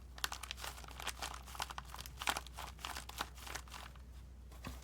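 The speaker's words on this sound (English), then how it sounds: "I use this brown packaging envelope, and it has such a satisfying crinkle." Brown paper packaging envelope crinkling close up as a handmade vintage-style junk journal folio is handled: soft, irregular crackles and rustles with a few sharper crunches, fairly quiet and steady throughout.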